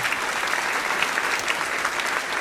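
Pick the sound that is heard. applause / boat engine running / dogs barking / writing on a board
applause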